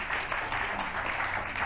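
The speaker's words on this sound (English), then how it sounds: "I'm going to applaud that because that was a heck of a summary." Applause from a crowd, an even wash of clapping at moderate level that holds steady throughout, with no voices over it.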